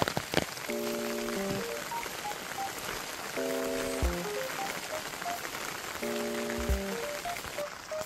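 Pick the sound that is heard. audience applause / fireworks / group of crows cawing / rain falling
rain falling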